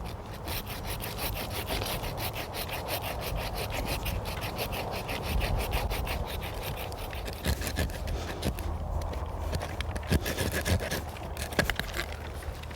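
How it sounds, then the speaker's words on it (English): A hand saw rasps through a fruit tree limb in steady back-and-forth strokes while pruning, close and continuous, with a few sharper scraping catches near the end. "I'm just going to start sawing here and take this off"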